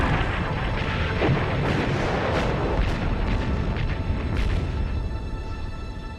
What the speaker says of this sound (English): We shall hold out against the Boche, although their bombardment is infernal.